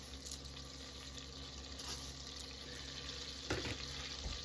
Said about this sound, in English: Okay, butter is starting to bubble